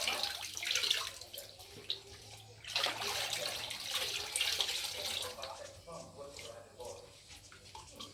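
Fabric is soaked and worked in water before dyeing, with close sloshing, squelching and trickling that swells and fades in uneven bursts while a voice speaks faintly underneath.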